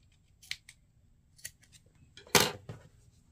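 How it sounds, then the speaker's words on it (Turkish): Scissors snip off excess yarn from a hand-knitted baby romper: a few sharp, close clicks spaced apart, ending in one louder, longer cut, in an otherwise quiet room. "evet, fazlasını kesiyorum."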